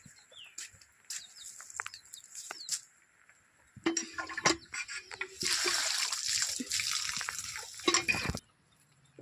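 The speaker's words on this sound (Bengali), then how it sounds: "তো আদাটা একটু এখন ধুয়ে নেব।" Freshly pulled ginger washed by hand with water, splashing and sloshing in bursts that grow to a steady rushing spell, while chickens cluck and birds chirp nearby in a rural setting.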